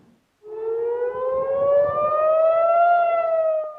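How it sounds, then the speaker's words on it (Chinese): An air raid siren wails in Jerusalem during a night of missile alerts, one loud rising tone that swells in after a brief silence and holds steady, with a faint low rumble beneath. "以色列首都耶路撒冷空袭警报又搁咧弹"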